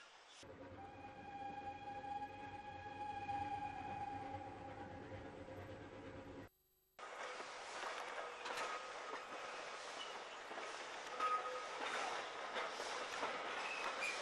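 A long wheel squeal over rumbling rail noise, a brief gap, then a louder clattering roar of the last train on the Setesdalsbanen railway pulling into Evje station nearby.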